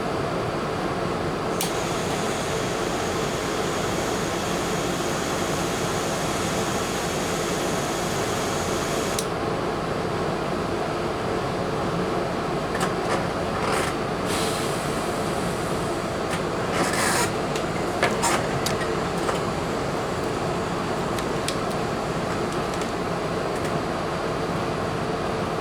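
A hot air gun blows on a connection on a Sony KD-65X750H TV board, a steady close whooshing hiss throughout with a few faint clicks and ticks toward the end.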